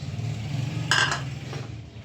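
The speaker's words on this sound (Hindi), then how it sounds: "अब डालेंगे ये जो मैंने टमाटर लिए थे 5 से 6 अदद" Whole tomatoes, five or six of them, dropped into a cooking pot with onion and garlic for goat head curry, giving a brief muffled clunk and clink over a steady low kitchen hum.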